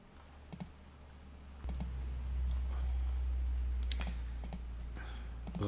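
Sharp mouse clicks on a computer while downloading and installing software, a few scattered single and double clicks over a steady low hum, fairly close and alone.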